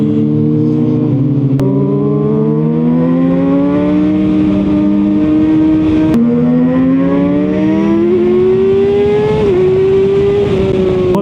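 A big engine roars loudly and continuously, its pitch climbing in long surges as it revs up, drops back, and climbs again.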